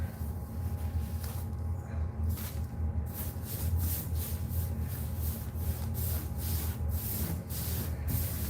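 Paint sprayed onto a wall in bursts of airy hiss, repeating in a fairly regular rhythm over a low steady hum from the sprayer, close and moderately quiet.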